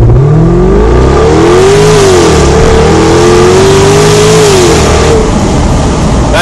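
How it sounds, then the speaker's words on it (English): A Jaguar XKR-S convertible with a 550 bhp supercharged 5-litre V8 accelerates hard from 0 to 60 mph, its loud engine climbing through rising revs with gear changes, heard close and alone throughout. "courtesy of 550 bhp's worth of supercharged 5-litre V8 engine"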